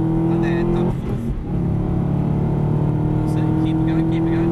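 An Aston Martin on the Silverstone circuit pulls hard at full power, its engine droning loud and steady from inside the cabin. Pitch shifts briefly near the start, and an instructor talks over the engine.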